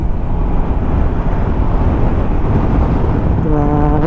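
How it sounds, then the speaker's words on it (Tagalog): Strong wind roaring steadily and loudly across a microphone on a rough zigzag road in Bicol, a dense, unbroken rumble filling the whole clip, with a faint tonal hum entering near the end. "Malakas pa ang hangin."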